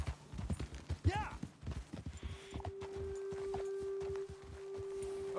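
Horse hooves walking in Red Dead Redemption 2 give a run of close, uneven clip-clop taps, mixed with voices and a sustained tone later in the moment.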